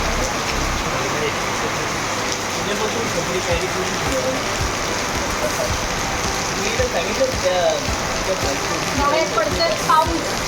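Steady heavy rain falling outside at night in Goa, a dense continuous wash with scattered drips and splashes close by, while people talk quietly underneath.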